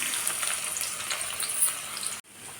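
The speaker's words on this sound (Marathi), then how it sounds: "तेल इथे आपलं छान गरम झालेलं आहे आता यामध्ये आपल्याला टाकायचा आहे कांदा" Chopped onion fries in hot oil in a pan, giving a steady close crackling sizzle that runs for a couple of seconds before cutting off abruptly near the end.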